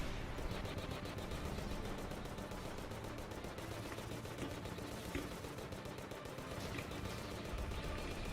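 A gun firing chlorophyte bullets in Terraria's Calamity Infernum mod, a dense, steady stream of rapid shots running throughout under a busy, even wash of game noise.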